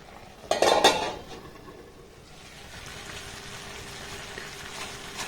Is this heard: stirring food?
yes